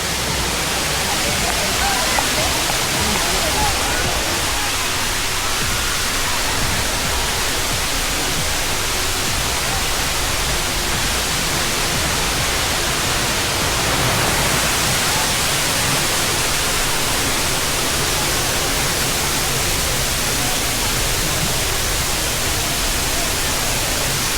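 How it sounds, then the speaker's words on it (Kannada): Hanuman Gundi waterfall in the Western Ghats, a steady loud broadband rush of falling water filling the whole stretch without pause, close and unbroken. "ಹನುಮಾನ್ ಗುಂಡಿ ವಾಟರ್ ಫಾಲ್ಸ್."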